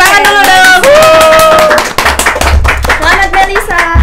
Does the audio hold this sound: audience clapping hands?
yes